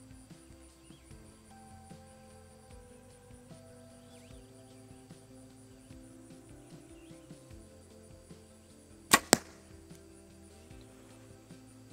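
A pair of quick, crisp arrow shots from an Obsession FX7 compound bow crack out close together late on, after a long stretch of quiet outdoor ambience with faint insect hum.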